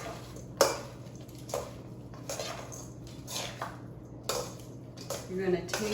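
Taco filling being tossed with dressing in a bowl for plant-based Asian-inspired tacos, giving soft scraping and clinking of a utensil against the dish in several short bursts under a low steady hum.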